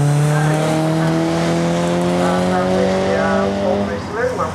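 Alfa Romeo 147 GTA and 155 race cars rush past the start-finish line at Snetterton circuit with rising, sliding engine notes, loud and close, while a commentator talks over them.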